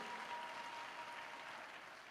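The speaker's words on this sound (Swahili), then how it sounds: "Ongeza makofi kwa Yesu kama hiyo haitoshi" A church congregation applauds for Jesus, steady sustained clapping from a crowd, heard faint and somewhat distant with a constant even texture.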